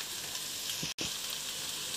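Vegetables and Maggi noodles fry in a pan as soy sauce goes in, a dense continuous sizzle close by, broken by one very short gap.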